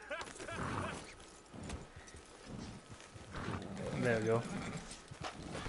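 Horse hooves clip-clop in the Red Dead Online video game, a moderate trotting rhythm that comes and goes beneath frequent talking from a player.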